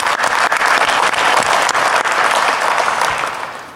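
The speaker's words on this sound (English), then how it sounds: "can we give her a round of applause, please?" A crowd at the DEF CON 20 hacking conference claps loudly and continuously, dense applause that holds steady before easing off slightly at the end.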